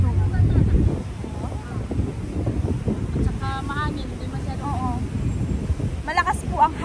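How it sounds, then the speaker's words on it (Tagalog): Gusty wind buffets the microphone in heavy low rumbles, strongest at the start, while a person talks over it. "Ang hangin dito."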